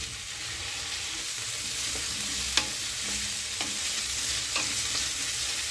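Chopped tomato and green chilli fry in a pan for veg biryani while being stirred, a steady sizzle broken by occasional sharp scrapes and clinks of the spatula, with no voices.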